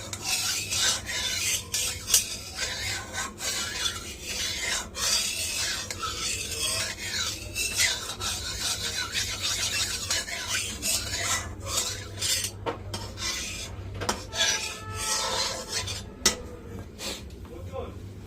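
Hot oil being swirled around a pan while paneer is made at home, heard as continuous rasping, scraping strokes of a utensil against the pan's metal surface, close and busy for the whole stretch.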